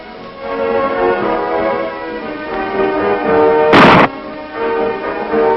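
A single sharp gunshot at an indoor weapons range used for rifle and pistol marksmanship training, one loud crack about two-thirds of the way through, over steady background music.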